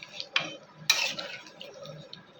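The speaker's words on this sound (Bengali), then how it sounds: "নাড়াচাড়া দিয়ে নেব" Boiled potatoes are stirred in a pan, giving soft scraping and two sharper clanks of a utensil against metal over a faint background, fairly quiet and close.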